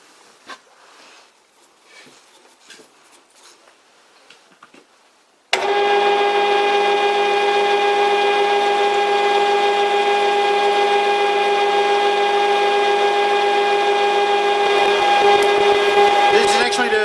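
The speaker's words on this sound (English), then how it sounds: "Up next is a 4mm drill bit" A 4mm cobalt drill bit bores a pilot hole, likely on a lathe, for an ER32 collet chuck backing plate; a steady, loud motor whine with a strong tonal hum starts abruptly after quiet handling noises and runs unbroken to the end.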